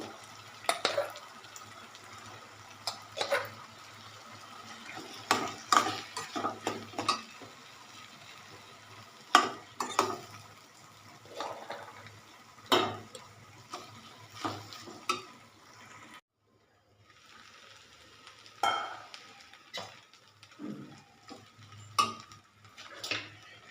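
Rice is stirred and fried in a pan for tomato rice, with irregular spatula scrapes and clinks over a soft sizzle, one short pause near the end, fairly quiet and close.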